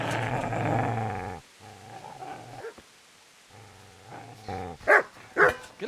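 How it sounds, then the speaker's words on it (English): A dog in the video game Kingdom Come growls low and steadily, pauses, growls again, then lets out two loud, sharp barks near the end. "Get away, you mutt!"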